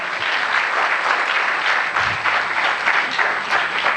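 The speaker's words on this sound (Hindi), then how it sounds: "एक बार तालियां बजाकर मंदे सीधे सीधे मेरे से जुड़े" A crowd at a Hindi comic poetry gathering applauds, with a dense, steady roar of clapping that fills the full four seconds and carries no speech.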